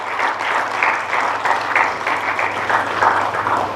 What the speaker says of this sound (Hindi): जोरदार तालियों के साथ अभिनंदन